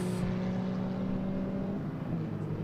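A vintage racing car at a historic race festival drones steadily with a low engine hum, heard at a moderate distance for a few seconds before slightly easing off.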